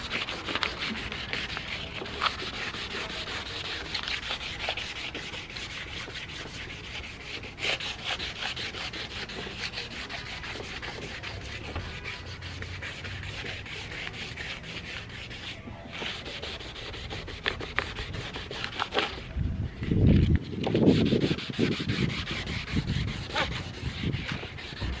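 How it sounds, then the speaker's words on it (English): Steady sanding of an S2000 car body part, a continuous gritty rubbing that runs for a long stretch with brief pauses and a short burst of heavier low scraping near the end. "So right now I'm just like sanding it down and stuff."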